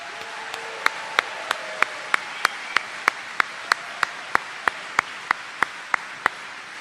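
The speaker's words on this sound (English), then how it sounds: "can we have a big round of applause for the class of 2023" Applause at a Hilton Head Preparatory School graduation ceremony for the class of 2023: one close, sharp clap repeats at an even, quick rhythm over a faint, softer crowd wash.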